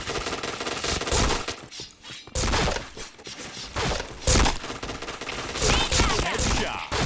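Bursts of gunfire from a shooting video game, with loud rapid volleys and sharp cracks that come and go over a busy, dense mix of game sound and no voices.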